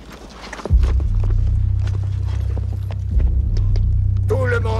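Horses clop and rumble in a rapid, loud rhythm as riders set off, with heavy low thudding throughout and a horse's whinny at the end.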